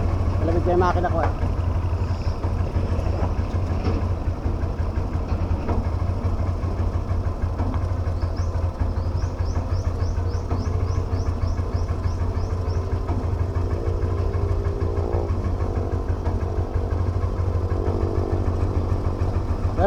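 A tricycle motorcycle engine idles while warming up in Lopez, Quezon, a steady low throbbing putter running throughout with light mechanical knocking and someone talking over it.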